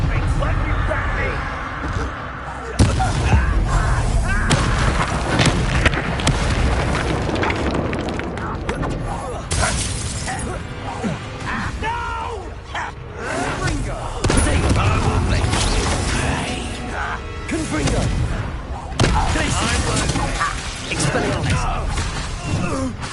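Confringo fire spells blast repeatedly in the Hogwarts Legacy video game during a wizard duel, loud booming explosions layered over dense combat effects, music and shouted dialogue throughout.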